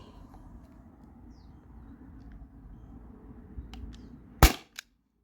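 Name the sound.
T4E HDP50 CO2 pistol firing steel balls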